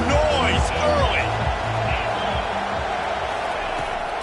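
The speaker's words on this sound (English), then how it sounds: "This crowd bringing the energy and noise early." Stadium crowd at a football game keeps up a steady, loud roar of voices and cheering throughout, with bursts of louder shouting early on and no clear single voice standing out.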